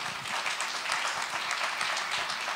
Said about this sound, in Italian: che accoglierei con un grande applauso.